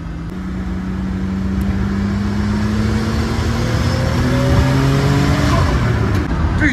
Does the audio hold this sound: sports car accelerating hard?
yes